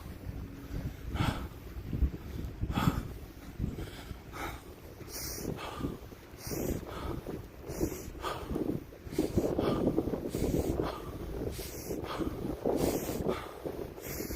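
Wind gusts outdoors buffet the microphone in steady rumbling waves, with bursts of broadband noise swelling and fading throughout and no talk.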